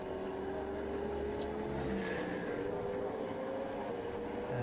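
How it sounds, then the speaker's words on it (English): Ferrari and Lamborghini GT race cars lapping Silverstone in an endurance race, their engines a steady distant drone with a rising whine as one chases the other, continuous and fairly faint throughout. "As there comes the Ferrari trying to find the way past the Lamborghini"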